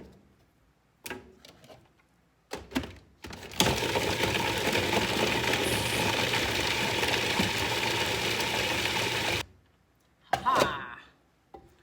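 A food processor chops salted herbs with carrots, starting after a few clunks and handling noises and running as a steady loud whirring grind for about six seconds before it stops, followed by more clatter.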